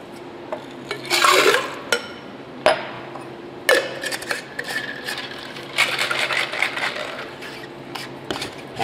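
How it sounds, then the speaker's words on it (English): A cranberry juice cocktail is shaken in a mixing tin, with bursts of clattering and rattling near the listener and a few sharp knocks scattered between quieter moments. "I'm gonna pour this in my mixing tin, give it a good shake to incorporate."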